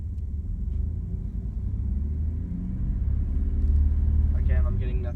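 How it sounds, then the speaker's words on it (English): A 1994 Dodge Dakota truck with a transmission fault idles at high RPM in drive without moving, a steady loud low rumble that swells slightly toward the end. "Just high RPMs. A really loud truck."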